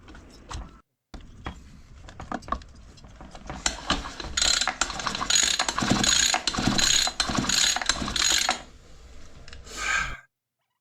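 Screws being tightened by hand with a ratcheting tool while reassembling a gasoline brush-cutter scythe engine: dense runs of close, loud ratchet clicks in bursts, with short pauses and a quiet gap near the start.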